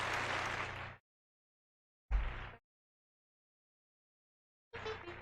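Three short bursts of clapping and cheering, the first about a second long, then a brief burst, then another starting near the end, each cutting off abruptly into silence.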